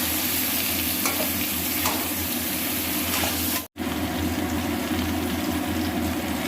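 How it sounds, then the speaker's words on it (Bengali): Potatoes with cumin powder sauté in a pan with steady sizzling and stirring, a continuous close frying hiss broken once by a brief silence midway, with no talking. "অল্প জিরের গুঁড়ো দিয়ে এটাকে এখন আমি ভালো করে কষিয়ে নেব"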